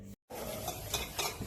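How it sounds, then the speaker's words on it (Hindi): Dishes are scrubbed by hand: continuous scraping and rubbing of pots and utensils, with occasional clinks, close up and steady after a brief gap, with nobody speaking. "अब भी बर्तन मांज रही हो?"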